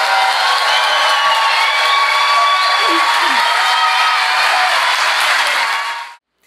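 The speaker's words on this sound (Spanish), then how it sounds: "solicito un fuerte aplauso para ellos" Loud, sustained applause and cheering from a crowd at a university graduation ceremony for new bachelor's graduates, with a few whoops rising above the steady clapping before it drops away abruptly.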